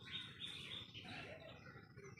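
Birds chirp in thin, high tweets that come in short scattered bursts, faint and somewhat distant, over a low background hum, with no talk.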